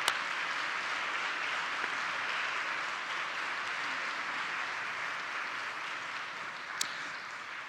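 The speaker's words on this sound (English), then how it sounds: "Give them a big applause" An audience applauds a group of young girls in pink hard hats at a program opening, a continuous, even, somewhat distant hiss of many hands clapping that never breaks, with a couple of faint clicks.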